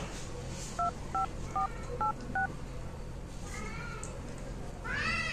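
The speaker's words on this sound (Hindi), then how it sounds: "एक काम करता हूँ एक बार ना फोन लगा देता हूँ" Five quick touch-tone beeps as a phone number is keyed in, evenly spaced, followed by a cat meowing loudly close by.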